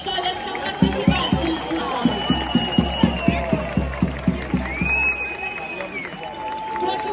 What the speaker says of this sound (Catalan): Un aplaudiment per totes i cada una de les colles que han participat